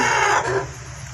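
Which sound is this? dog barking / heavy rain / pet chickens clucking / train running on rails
pet chickens clucking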